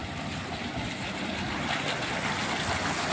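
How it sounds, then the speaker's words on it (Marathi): Water from a running borewell pump pouring into a farm well makes a continuous, loud rushing splash that holds steady throughout, with no voices. "इथे बोरची पण मोटर चालू आहे, ते पाणी विहिरीतच पाडले."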